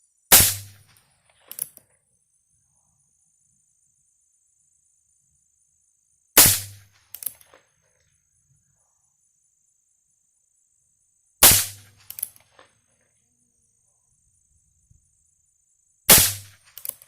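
Handgun shots with Aguila ammunition at an outdoor range ring out as four sharp, loud single reports spaced roughly five seconds apart, each followed by faint clinks, with no voices.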